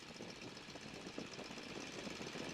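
Boeing Stearman biplane from 1942, its radial engine run up to 1,300 RPM on the ground with brakes held, a steady, loud, rumbling drone that holds even throughout.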